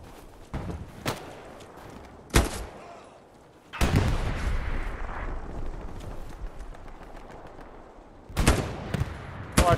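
Gunfire in Hell Let Loose: several sharp, loud rifle shots ring out at irregular intervals, with a sustained burst of firing and rumble in the middle and more close shots near the end.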